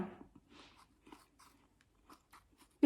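Crisp bites and chewing of apple dipped in chili salt, a few sharp crunches followed by quieter, irregular mastication close to the mic, with a louder knock at the very end.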